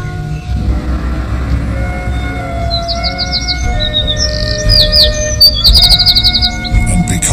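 Birds in Wales chirp and sing in quick repeated trills and short bright phrases over a low steady outdoor rumble, growing busier toward the end, with no talking.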